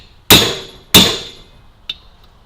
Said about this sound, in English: with a hammer because they get stuck.